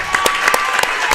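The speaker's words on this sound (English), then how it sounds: "How about a round of applause?" Loud audience applause at a school sports show honoring a girls gymnastics team, with dense overlapping claps and a few sharp individual hits over a short burst.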